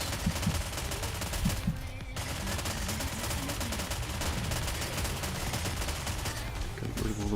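Dense, continuous gunfire from the video game Nikke, rapid automatic bursts and impacts packed together at high volume with almost no gaps, a brief dip near the middle.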